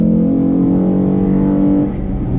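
A Ford Mustang V6 accelerates hard at full throttle, a loud, close, droning engine note holding steady before easing slightly at the end.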